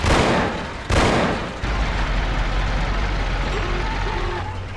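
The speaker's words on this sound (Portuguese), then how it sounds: "esses dois tiros foram aonde, cara?" Gunfire in the Mafia video game: two loud, sharp shots about a second apart, followed by a dense rumbling game soundscape that fades slowly.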